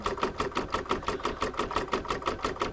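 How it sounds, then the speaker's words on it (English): A home embroidery machine stitching out an apple coaster design, its needle hammering in a fast, even mechanical rhythm, close and steady for the whole stretch. "just watching the machine stitch out, is really quite fascinating"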